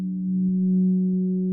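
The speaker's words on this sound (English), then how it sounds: "we have built our first subtractive synth patch with a" A VCV Rack modular subtractive synth patch with added delay and reverb sustains a steady, buzzy low tone with stacked harmonics, swelling slightly in loudness and held evenly throughout without any voices.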